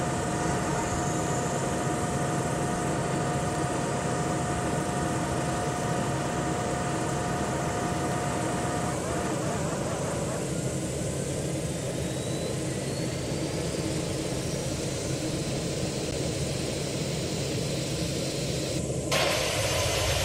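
Boeing 737 engines spooling up during start in the Project Flight game: a steady, loud roar with a thin whine that rises and settles partway through, then a brief shift in tone near the end.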